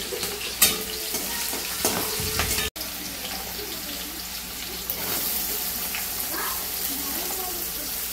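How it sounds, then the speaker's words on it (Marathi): Garlic, green chili and onion fry in hot oil in a wok, giving a steady, close sizzle with a few sharp clinks and stirring clatters early on. "कढईमध्ये गरम तेल करत ठेवले. त्याच्यामध्ये आता आपण लसूण टाकले, त्याच्यानंतर मिरची आणि त्याच्यावर लगेच आपण कांदा टाकले."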